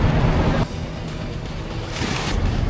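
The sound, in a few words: Atlantic Ocean waves at Lisbon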